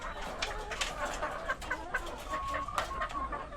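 One-month-old chickens in a new cage, soft peeping and clucking calls repeating close by over a faint background.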